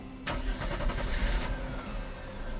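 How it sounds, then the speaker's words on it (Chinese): A warm Mercedes W126 300SEL engine is restarted after a fuel distributor rebuild: a brief starter crank catches at once and settles into a smooth, steady idle, recorded close by. "引擎关掉，热车重新启动"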